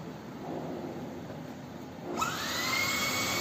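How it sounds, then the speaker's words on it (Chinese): A Dreame vacuum cleaner whines up to a high, steady suction tone as it pulls up a small puddle of water, the motor rising sharply partway through and holding loud to the end. "首先，咱们先用这个追觅吸尘器来试一下。"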